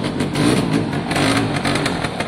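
Piaggio scooter engine revving on a test run, a loud, steady buzzing drone with rises and dips in revs throughout, close by and with no voices over it.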